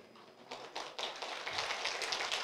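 Applause from a church congregation, faint at first and then swelling into dense, steady clapping that builds in loudness over a couple of seconds.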